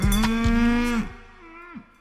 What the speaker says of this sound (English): look at those cute cows